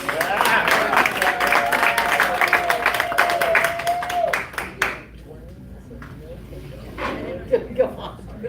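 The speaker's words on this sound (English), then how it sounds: "let's give a big round of applause for all the comedians on the show tonight" Crowd applause and clapping from the audience at a comedy show in a saloon, loud and continuous for about four seconds while a voice talks over it, then fading to scattered claps and talk.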